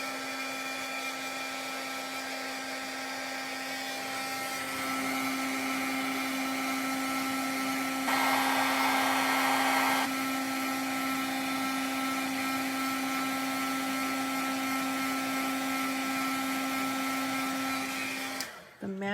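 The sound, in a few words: heat gun warming up for heat embossing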